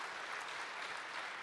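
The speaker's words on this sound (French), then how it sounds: "Je pense qu'on peut vraiment l'applaudir." An audience applauding at an association's general assembly, a steady wash of clapping from a crowd heard faintly and continuously.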